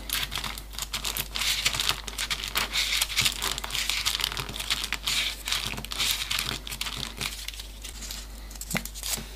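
Origami paper being folded by hand for a 3D panda model, a close run of quick crisp crinkles and soft taps repeating irregularly at low volume.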